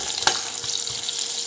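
Green chillies and onion fry with a steady, broadband sizzle in a hot pan, with a brief scrape of stirring early on, close and continuous throughout.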